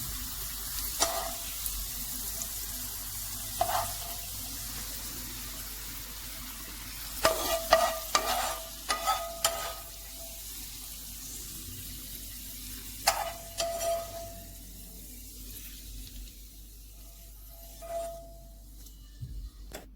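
Fried garlic and green chili tempering poured over cooked rice for a Singaporean rice dish, giving soft sizzles and scattered spoon clinks over a low background hiss, with no one talking.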